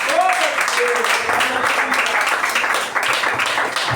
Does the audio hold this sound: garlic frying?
no